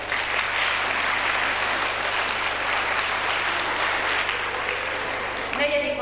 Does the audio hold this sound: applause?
yes